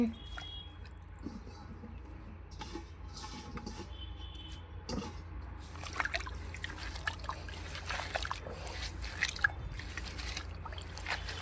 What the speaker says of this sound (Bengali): শাকটা এবার ভালোভাবে ধুয়ে নিচ্ছি